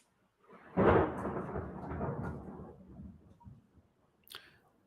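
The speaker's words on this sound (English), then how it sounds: "clearly now it's a thunderstorm" Thunder from a thunderstorm rolling outside during a tennis broadcast, a sudden rumbling boom that swells and slowly fades over a few seconds, fairly distant and soft, with no talk.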